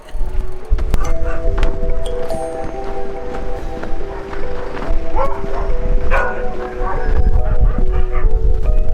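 Sled dogs howling and yelping outdoors in an Arctic snowstorm, with several drawn-out, overlapping wails sustained above a loud, constant wind roar.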